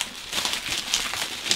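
Bubble wrap around a Funko collectible box crinkles and rustles as it is handled, a continuous close crackling texture with small sharper pops, with no voices.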